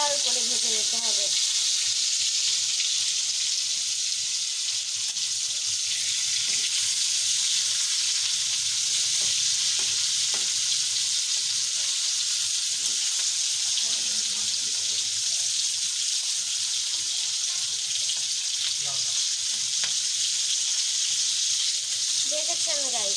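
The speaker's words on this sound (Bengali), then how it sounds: "মাছগুলো সুন্দরভাবে উল্টিয়ে পাল্টিয়ে লাল করে ভেজে নিতে হবে।" Fish frying in hot oil, a steady loud sizzle that runs continuously throughout, with faint kitchen clatter underneath.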